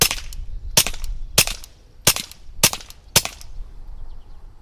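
Six sharp, quiet cracks from a suppressed Ruger SR22 firing CCI Quiet Semi Auto .22 LR, spaced roughly half a second apart and fairly close, with a faint action clack after each one.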